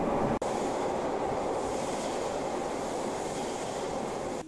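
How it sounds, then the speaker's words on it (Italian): A Tokyo metro train pulls into an underground platform with a steady, loud, broadband rumble and rail roar. The sound stays fairly even and fills the whole clip, then drops off abruptly at the end. "E finalmente arriva il treno."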